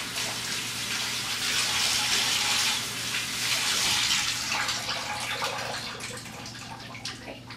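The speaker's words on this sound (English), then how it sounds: "let me just wash my hands off." A kitchen tap runs steadily while hands are rinsed under it, a close, continuous splashing gush that eases slightly toward the end.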